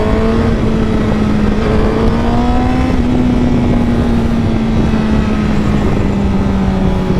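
A 2018 Honda CBR1000RR SP sportbike engine drones loud and steady while riding through South Florida traffic, a sustained growl with slight pitch rises and falls, plus wind noise.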